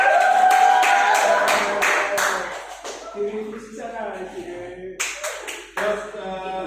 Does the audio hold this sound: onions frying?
no